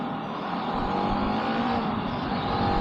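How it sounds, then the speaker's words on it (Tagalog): Continuous road traffic on EDSA in Metro Manila, with engines humming and revving nearby in a dense, steady roar and no talking. "Yung traffic dito,"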